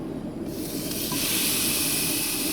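Oil hisses steadily on a cast iron pan heating up at a cold-weather truck campsite, a continuous close sizzle that swells louder partway through, with no talking.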